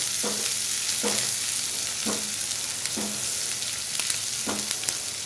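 Onions frying in a pan give a loud, steady sizzle, with spoon stirring strokes knocking against the pan at a regular rhythm about once a second.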